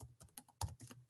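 Quiet, quick keystrokes on a computer keyboard during an online accounting class, a short irregular burst of clicks with no speech over them.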